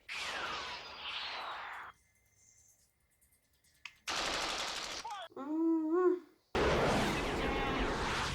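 Rapid machine gun fire from the 1986 film Top Gun's fighter jet dogfight, loud harsh bursts broken by gaps, with voices talking between them.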